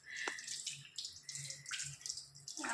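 A tap runs while fish are washed in a basin at home, water splashing and trickling in short, uneven bursts with faint clinks, quiet and close, with no voices.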